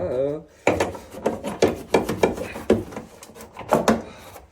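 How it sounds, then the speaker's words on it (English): A socket wrench works on a Corvette C4 gas tank bolt, giving a rapid series of close ratcheting clicks and metallic knocks, with someone speaking briefly at the start. "let's get my socket on there. Try to break it loose if we can."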